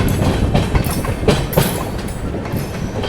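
The Intercity Express train between Gorakhpur and Varanasi runs close by, a loud, rumbling rush with a rhythmic clickety-clack of wheels over rail joints and no voices.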